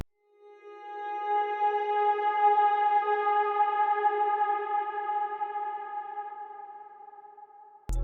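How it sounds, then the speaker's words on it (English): Suspenseful ambient drone from a big room electronic track climax, a sustained tonal pad swelling in slowly and holding steady with a faint echoing shimmer before fading, ending in a brief low thump. "And then I added this ambient drone which sounds like this."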